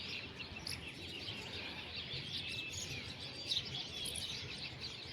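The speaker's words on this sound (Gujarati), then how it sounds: "પંખીનો અવાજ સાંભળો અને જુઓ" Pigeons and other birds perched on overhead wires chirp and tweet continuously at a moderate distance over a soft outdoor village background.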